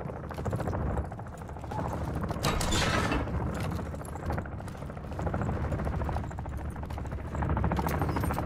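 Mechanical clicks, rattles and metallic ratcheting of a weapon being reloaded in Call of Duty Modern Warfare III Zombies, close and busy over a low rumbling backdrop.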